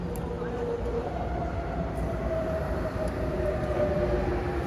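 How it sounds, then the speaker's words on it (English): MTR Airport Express train arriving at a Hong Kong station platform, a steady rumbling roll with a faint whining tone and occasional light clicks, holding close and even throughout. "Here's our A train."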